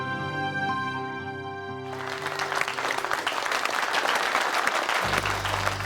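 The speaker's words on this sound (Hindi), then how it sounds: "जितनी जोरदार तालियां मिली हैं इन्हें" Loud, sustained applause from an audience after a dance performance, rising abruptly after a stretch of music and continuing as dense, steady clapping, with a low musical tone returning near the end.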